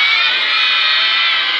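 A loud crowd of children shouting together at a children's carnival event in Bergen op Zoom, a sustained high-pitched collective yell lasting throughout without pause.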